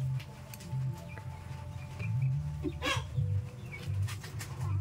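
Chickens on a rural farm in the Philippine countryside give low, repeated clucks and murmurs close by, with one brief sharper squawk midway, over a steady outdoor background hum.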